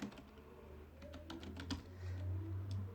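Quick keystrokes clatter on a computer keyboard as a short terminal command to compile a C file with clang is typed, a soft, close run of clicks over a faint low hum.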